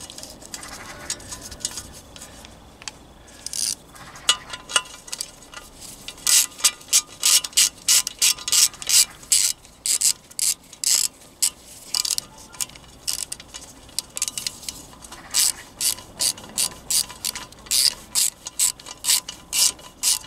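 A hand ratchet tightens a part on a Moto Guzzi motorcycle, sounding as fast, evenly spaced clicking strokes in repeated bursts, close and crisp, with brief pauses between pulls.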